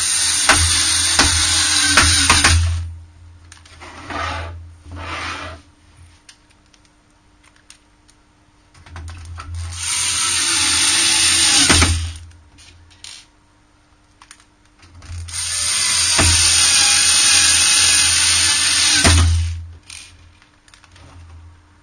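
Screws being driven into a Sega Master System 2 console, heard as three stretches of close, scratchy, clicking screwdriver turning with small knocks and pauses between them.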